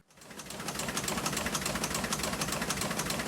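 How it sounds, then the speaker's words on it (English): A historic newspaper printing press at the Vineyard Gazette offices runs with a rapid, steady clatter, dense rhythmic thumping and whirring close by, continuous and unchanging. "That's the sound of the historic press in the Vineyard Gazette offices in Eggertown printing the paper."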